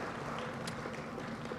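Audience applause at an economic growth forum, a dense continuous wash of clapping from a crowd, steady and moderately loud throughout.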